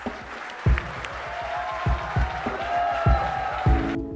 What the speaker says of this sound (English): gentlemen, please join me in giving Shahrukh a resounding round of applause.